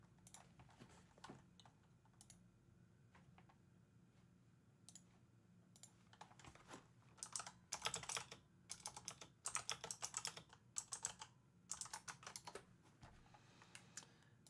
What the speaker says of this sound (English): I have a new clicky keyboard